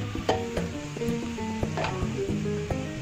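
Chicken pieces fry with golden-brown onions in a pot for street-style chicken masala biryani, a steady close sizzle with clinks of a spoon stirring.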